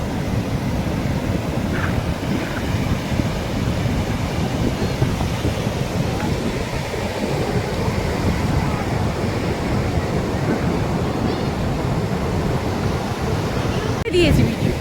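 Waves break and wash on Puri beach in a continuous, loud surf roar mixed with wind buffeting the microphone, with a brief knock near the end.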